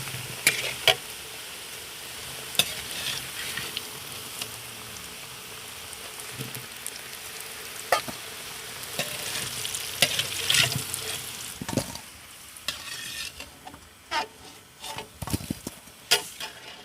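Browned potatoes frying in hot oil, with a continuous crackling sizzle broken by scattered clinks and scrapes of a utensil that grow busier toward the end.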